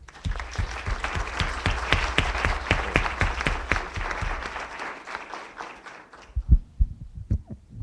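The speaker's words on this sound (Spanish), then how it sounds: "Le damos un fuerte aplauso." An audience at a book presentation applauds steadily for several seconds, then the clapping thins out into a few scattered claps and soft rustling.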